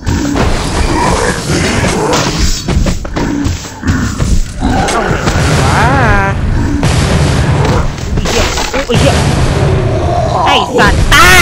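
Repeated heavy booms and crashing blasts in the horror video game The Suffering, loud and close, with roaring impacts layered over gunfire-like bursts while someone talks excitedly throughout.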